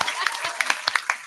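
A comedy-show audience claps in a short, uneven burst of close hand claps, mixed with some voices and crowd noise.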